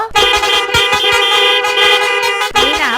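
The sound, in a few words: many horns on a decorated motorbike honking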